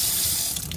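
Water runs steadily from a tap as tiny glass balls are rinsed to wash off vinegar, a close, continuous hiss and splash without talking.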